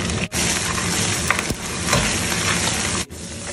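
Scallion, ginger, garlic and dried chili sizzle hard in hot oil, a loud, dense crackle with quick stirring scrapes and a couple of brief dips, close up with no voices.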